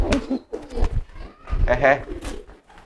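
Domestic pigeons cooing in short throaty bursts close by, with a person talking over and between the calls.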